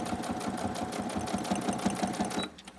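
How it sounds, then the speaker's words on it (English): A sewing machine runs a long straight stitch around the edge of a fabric journal cover, set slightly longer than default, with a steady close rhythmic hum that cuts off near the end. "I'm just using a straight stitch there"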